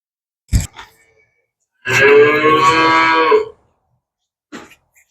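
Dairy calves on a farm: one long, loud moo stands alone in the middle, bracketed by a couple of short grunts or snorts before it and a brief one after, with silence between.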